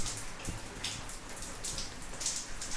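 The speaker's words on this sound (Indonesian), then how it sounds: "kalau teman-teman mendengar podcast ini sambil diiringi dengan apa suara gemericik hujan" Steady light rain trickling and pattering, a soft continuous wash of drops with occasional brighter splashes, quiet and alone.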